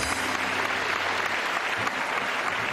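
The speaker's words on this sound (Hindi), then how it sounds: "तालियां।" A studio audience at a Pakistani television game show breaks into dense, continuous clapping, a loud, even roar of hands filling the short stretch.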